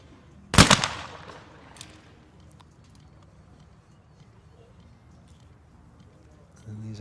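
Single loud shotgun report at a men's ISSF World Cup trap shooting final in Lonato, Italy, a sharp nearby blast followed by a short echo and then a quiet outdoor setting.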